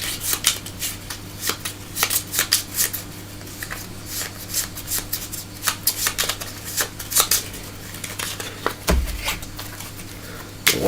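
Playing cards for a Dark Souls board game are shuffled repeatedly, crisp riffling bursts and flicks in quick irregular runs, close and fairly loud, with a steady low hum beneath and one heavier thud near the end.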